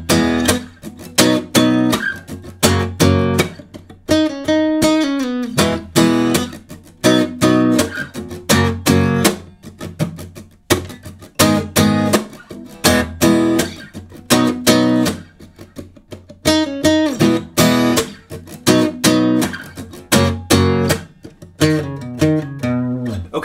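An electric guitar plays a song's post-chorus with rhythmic strummed chords and picked single-note riffs, loud and close, with no voices.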